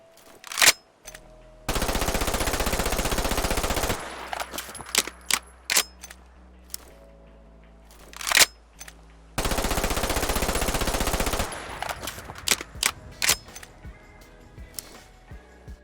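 Modded weapons fire in Fallout 4: two long sustained automatic bursts of rapid gunfire, separated by clicks, clacks and single reload or handling sounds, loud and close with no talking.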